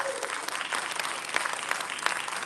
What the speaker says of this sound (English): If we can please just get a quick round of applause for everyone who did show up today.